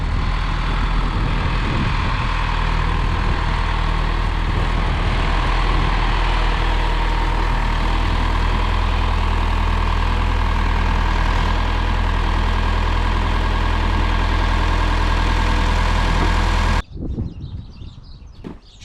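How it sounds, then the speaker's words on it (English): A 1974 John Deere 2030 tractor engine idling steadily with a deep, continuous low rumble that stays loud and close for most of the clip before cutting off abruptly near the end. "we're gonna show off our new to us tractor that we found"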